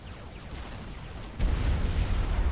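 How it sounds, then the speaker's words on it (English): Energy generators blowing up in the strategy game Supreme Commander 2: low rumbling battle noise that swells into a heavier, louder explosion boom about halfway through, sustained afterward. "destroying some energy generators back there"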